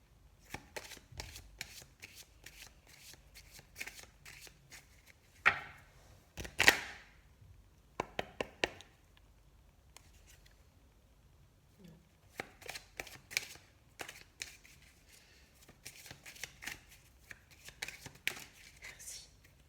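Tarot cards being shuffled by hand in repeated rapid riffling bursts, close and fairly loud, with short pauses and a few sharper slaps of the deck between runs.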